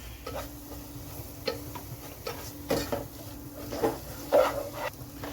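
A spoon stirs asafoetida into amla rasam in a pot, giving soft rhythmic clinks and taps against the metal. The taps come at irregular intervals, close and fairly quiet, over a low background hum.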